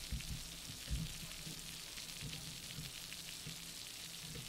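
Soft, even video game rain patters with a crackling, sizzling texture, faint and continuous, with a few light thumps underneath, in a farming game.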